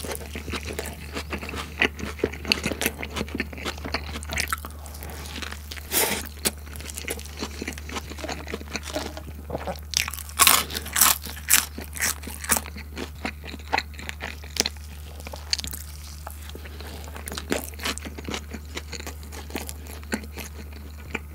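Close, crunchy chewing and biting of a Burger King Stacker 4 double white garlic Whopper, nuggets and fries, irregular bursts of crunches over a low steady hum, with no talk.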